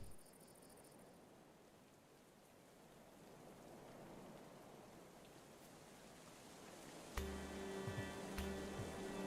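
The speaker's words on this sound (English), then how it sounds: "Hailstorm! Oh, wonderful." Hailstorm in the medieval colony-building video game Going Medieval, a dense, steady hiss of falling ice and rain that swells gradually, with a tonal game sound layered in near the end.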